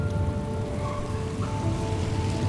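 Steady rain falls over a dark, grey city in the video game Heavy Rain, a dense, even hiss of patter with a low background hum, continuous and without talk.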